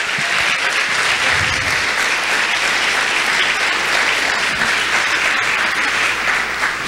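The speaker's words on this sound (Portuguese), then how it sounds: "Você pode aplaudir o Senhor por isso?" Sustained applause from a large church congregation, steady and dense throughout, with no voices standing out.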